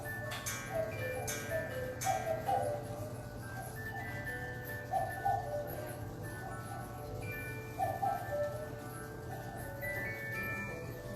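A decorative bear-themed clock in a German shop chimes a melody on the hour, with bright tones over a steady ticking and faint store ambience.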